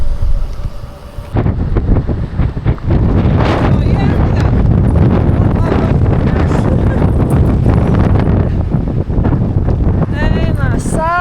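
Strong wind buffets the microphone throughout a bike ride along a road in Australia, a loud continuous roaring rush with gusty swells, briefly calmer at the very start.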